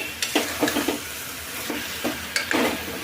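Chopped tomatoes go into a pan of frying leafy greens and moong lentils, with a soft continuous sizzle broken by several scraping stirs of a spoon against the pan.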